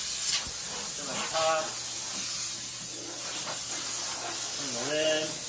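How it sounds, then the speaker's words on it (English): Steady broadband hiss of steam spraying from a US Steam Blue Evolution S+ commercial steam vacuum cleaner while a toilet and the area around it are cleaned, continuous and fairly loud, with someone talking over it at times. "All right, steam come out."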